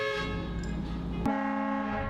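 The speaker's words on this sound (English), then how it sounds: "which sounded like a train horn" A Jeep fitted with a train-style horn blasts a long, loud multi-tone chord that shifts pitch abruptly midway and keeps sounding to the end.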